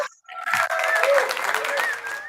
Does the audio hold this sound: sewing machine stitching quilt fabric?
no